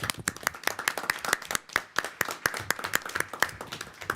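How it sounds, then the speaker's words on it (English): Audience applause at a school board meeting fills the room with steady, dense clapping from many hands, moderately loud and continuous for several seconds with no talking over it. "please join me in a round of applause for Louise Cobbs for her dedication for 41 y"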